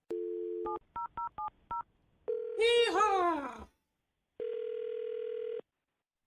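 A telephone number is punched in as a quick run of separate keypad tones after a steady dial tone, then a ringback tone sounds before a long held tone; a short shout breaks in near the middle.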